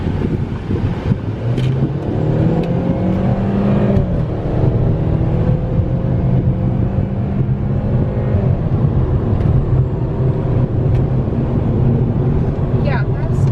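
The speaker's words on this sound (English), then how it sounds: "We're taking the car for its maiden voyage with the Stage 1 tune." A Saab with a Maptun Stage 1 tune accelerates on the road, its engine note rising and shifting through revs under steady cabin rumble, with people talking inside.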